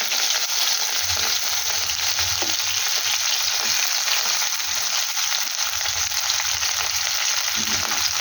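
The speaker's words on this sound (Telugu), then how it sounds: "ఆయిల్ వేడెక్కిన తర్వాత రొయ్యలు ఫ్రై చేయాలి" Prawns frying in hot oil in a pan, giving a steady, close sizzle with a few faint stirring knocks, and no voices.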